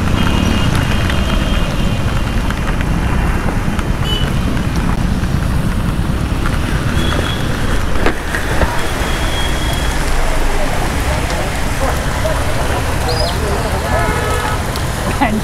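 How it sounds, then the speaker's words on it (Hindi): Heavy downpour pours around a rider on an Activa scooter, a loud, constant roar of rain and road noise that masks almost everything, with a voice faintly audible beneath it. "बहुत ही तेज बारिश है, बहुत तेज।"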